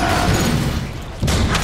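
A game explosion in Transformers: War for Cybertron booms loudly with a dense rumble, fades briefly, then a second heavy blast hits near the end.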